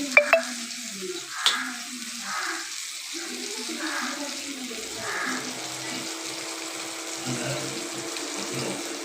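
Seer fish fries in a pan with coconut milk, giving a soft, steady sizzle with a few clinks and stirring sounds near the start, fairly quiet and continuous.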